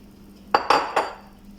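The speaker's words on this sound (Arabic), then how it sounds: "تو جبت صحفة كبيرة وباش نبدا نخلطهم فيه. نبدا على بركة الله نصب القهوة" Roasted coffee beans for Arabic coffee are poured into a large dish in three quick rattling bursts, each a bright clattering spill that fades fast, close and fairly loud.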